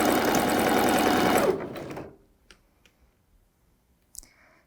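A sewing machine stitches fabric in a fast, steady, close mechanical chatter for about two seconds, then stops, leaving a few soft clicks and handling sounds.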